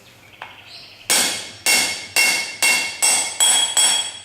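A hammer drives a socket to seat a wheel hub bearing against the rim on a 1990 Honda XLR250R Baja during a rebuild. After one faint early tap, seven loud, ringing metallic strikes land at a steady pace close by.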